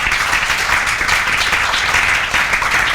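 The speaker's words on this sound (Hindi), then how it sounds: "अरे ओनली हर्लिन कोर, तो हो जाए तालियां, हो जाए, बहुत दिन से नहीं हुई" Students in a calculus class break into steady, dense applause filling the room for the whole stretch, loud and continuous with no talk over it.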